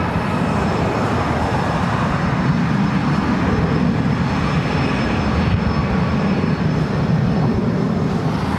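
An Asiana Cargo plane taking off from LAX, a loud, steady, broadband jet engine roar that holds evenly throughout, heard from a distance across the airfield.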